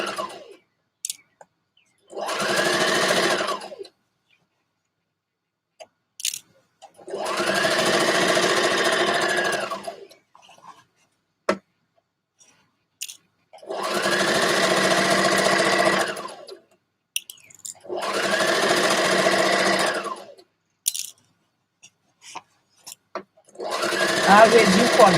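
A sewing machine stitches a dress sleeve seam with a 5/8 seam allowance. It runs close and loud in five steady bursts of a few seconds each, separated by quiet pauses with occasional light clicks.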